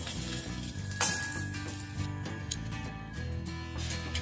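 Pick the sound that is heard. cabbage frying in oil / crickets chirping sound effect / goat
cabbage frying in oil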